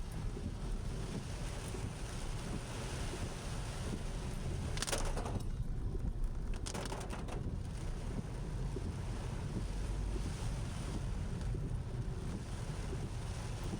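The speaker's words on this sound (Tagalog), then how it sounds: "Hinahambalos ngayon ng malakas na ulan at saka hangin." Steady, heavy broadband roar of strong wind and rain, heard from under a cover, fills the whole stretch, with a couple of brief bursts of hiss partway through.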